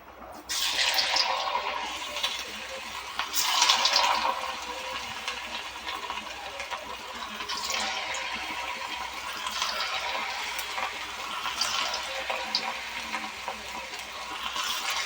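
Bitter gourd chips frying in hot oil, a steady crackling sizzle that swells and eases in waves and holds on continuously without any talking.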